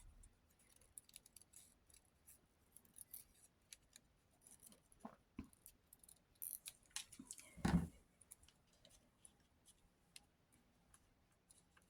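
Quiet, close snipping and clicking of Tim Holtz scissors cutting paper, with sporadic small ticks and one louder rustling snip, in an otherwise hushed room.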